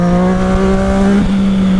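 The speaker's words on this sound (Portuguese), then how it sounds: "Você acelera essa moto, ela vem vindo de um jeito." A Yamaha MT-09 or Honda CB1000 motorcycle engine revs hard under acceleration, a loud, steady harmonic drone that holds close and then shifts pitch briefly near the end.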